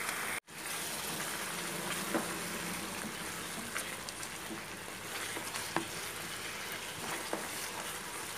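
Chutney ingredients sautéing in hot oil in a pan, a continuous close sizzle and crackle with scattered pops and stirring scrapes throughout.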